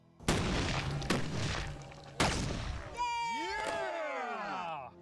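A homemade Swedish cannon is fired outdoors, giving several sharp, loud booms spaced about a second apart, followed by a whistling, warbling tone that fades out.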